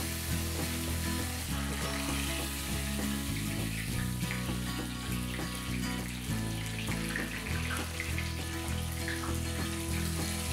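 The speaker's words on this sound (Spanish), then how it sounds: "Y vamos a esperar a que agarre el color adecuado y empiece a freírse." Flour-dusted fish fries in a pan, a soft continuous sizzle sitting beneath louder music with steady tones that dominate throughout.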